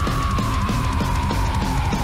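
A woman screams in a high, sustained tone over loud rock music with pounding drums and a driving band, continuous and intense throughout.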